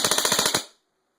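A Daniel Defense M4 airsoft gun fires a short full-auto burst in a rate-of-fire test, about eight sharp rapid shots close up, then cuts off into silence.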